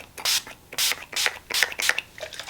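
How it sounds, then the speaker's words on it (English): Several quick spritzes of Urban Decay All Nighter setting spray hiss close by, one after another in short irregular puffs. "I went in with a couple spritz of the Urban Decay All Nighter"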